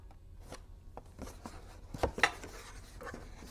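Scissors snip through card paper in a string of short, quiet cuts, with a couple of sharper snips near the end; close and alone, no voices.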